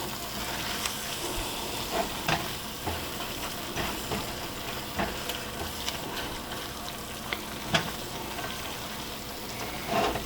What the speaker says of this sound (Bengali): এখন এটাকে নেড়ে চেড়ে শুধু ভেজে নেওয়ার পালা